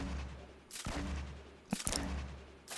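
Bursts of video game gunfire from a solo squad battle royale match, a few sharp cracks spaced across a couple of seconds over low background rumble, with no speech.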